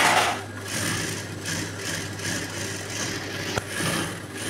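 Sewing machine stitching a piece for a plain blouse, a continuous whirring motor hum with faint rhythmic needle clatter, close and steady, with one small click near the end.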